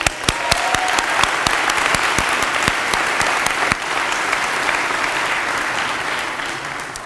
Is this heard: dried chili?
no